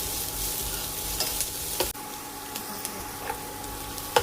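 Chopped shallots and sliced onion sizzle steadily in a pan with garlic, a continuous frying hiss with a few soft stirring scrapes and a brief clank.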